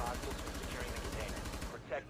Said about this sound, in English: Who'd you shoot at? I shot Dozo